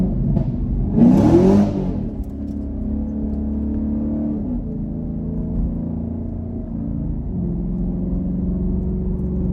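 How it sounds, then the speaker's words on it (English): A car's engine rises in a loud rev as the driver gets on the gas, a brief harsh surge over a steady low rumble, then settles into a droning cruise with road noise. "listen to how it sound when I get on the gas"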